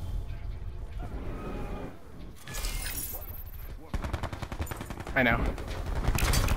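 Rapid gunfire and machine-gun bursts from a video game, loud and sustained, with excited voices talking over the shooting.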